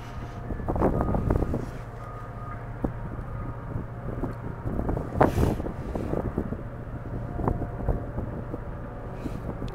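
Wind gusts outdoors at minus one degree and buffets the microphone with low rumbling bursts, rising and falling unevenly close to the mic.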